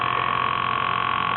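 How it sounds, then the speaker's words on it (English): A telephone rings in a radio drama, a steady buzzing electronic tone held without a break for the whole moment. "I'll just answer the phone."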